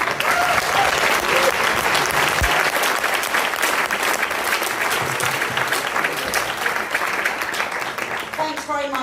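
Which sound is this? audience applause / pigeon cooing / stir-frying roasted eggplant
audience applause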